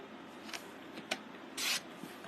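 A paper trimmer slices a 2.5-inch piece of card stock for a handmade card, with a few soft ticks and then one short, brighter rasping swipe of the blade, quiet and close.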